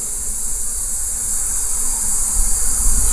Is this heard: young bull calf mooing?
no